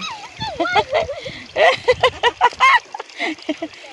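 A person imitates duck quacking with a run of short, rhythmic nasal quacks, mixed with chatter and a few splashy sounds.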